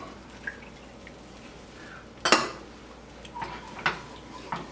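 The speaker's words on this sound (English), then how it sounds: "Gradually stir that in as well." A whisk knocking and scraping in a pan as milk is stirred into a sauce, scattered light clinks with one louder clatter midway, close, with faint liquid sounds.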